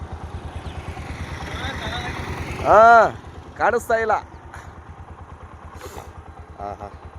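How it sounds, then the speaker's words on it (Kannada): A motorbike engine drones nearby throughout while another bike passes with rising and falling engine whine, under a man's speech. "ನೋಡಿ, ಇಲ್ಲೊಂದು ಬೈಕ್ ಬರ್ತಾ ಇದೆ"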